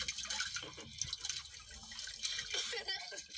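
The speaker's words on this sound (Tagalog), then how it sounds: "nagwawala yung isang isdang dyan sa loob" A big fish caught while fishing thrashes in water, giving bursts of close, splashy churning and sloshing that come and go in uneven surges.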